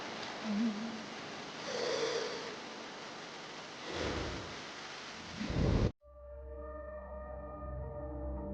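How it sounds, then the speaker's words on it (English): Heavy monsoon rain pours under dark clouds in the wild, a dense steady roar with low thunder rumbles swelling and peaking near the end before it cuts off abruptly to a quieter tonal hum. "As dark monsoon clouds rolled overhead, heavy rain began to fall."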